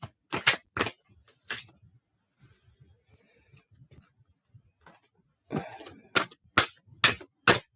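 Tarot cards are shuffled in sharp, crisp riffling bursts, a cluster at the start and another toward the end, separated by a quieter stretch of soft handling.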